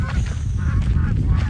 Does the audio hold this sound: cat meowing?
no